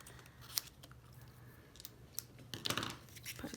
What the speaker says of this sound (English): I'm going to cut this down so I can get to these.